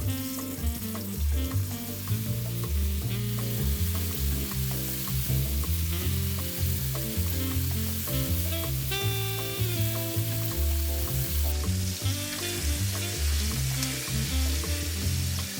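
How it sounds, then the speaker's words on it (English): Pork dredged in flour sizzling in a pan of hot oil, a continuous crackling fry heard close up over a steady background of music, with no talking. "Be very careful when you're putting your pork in so you don't burn yourself on the oil."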